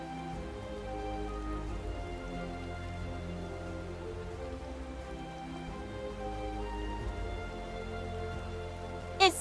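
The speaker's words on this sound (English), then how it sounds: "It's definitely blocking the rain, dude." Rain falls in the Final Fantasy XIV VR game as a soft, steady patter over a low background hum, ending with a brief sharp click.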